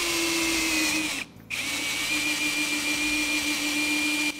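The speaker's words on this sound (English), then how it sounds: "I can drill my first 3mm sheet metal." A power drill spins a self-drilling screw through 3 mm sheet metal, a loud steady whine that breaks briefly after a second before resuming, close and alone.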